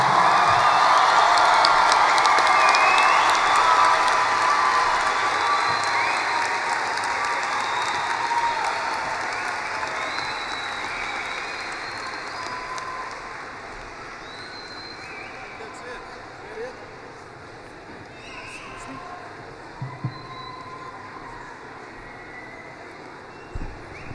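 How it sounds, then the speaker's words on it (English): Sustained applause and cheering from a large audience at a graduation ceremony, loud at first and gradually fading, with scattered voices and faint background noise. "Shouldn't we give them a round of applause?"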